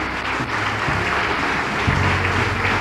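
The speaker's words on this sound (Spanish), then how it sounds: "Aplaudirle al Señor." A congregation at a church sermon applauds, a loud sustained wash of clapping filling the clip, with no speech over it.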